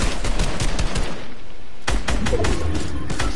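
Rapid gunfire in the Fortnite video game, dense bursts of loud, sharp shots with a short lull before another volley.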